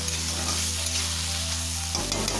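Chopped ash gourd sizzles in a pan on the stove while a spoon stirs it, a steady frying hiss with low hum from the burner and a brief shift near the end.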